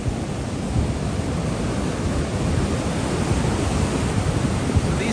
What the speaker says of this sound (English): So these waves are pretty tremendous